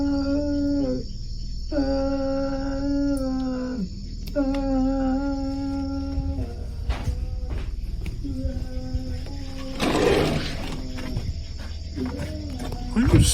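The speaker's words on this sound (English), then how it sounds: "A blood-curdling wail can be heard coming from right outside Yama's living room window" A drawn-out, rising and falling wail repeats several times outside a living room window at night in a scary video, loud and eerie, with a burst of noise partway through.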